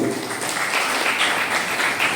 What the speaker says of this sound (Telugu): గట్టిగా చప్పట్లు ఆ తల్లికి ఒకసారి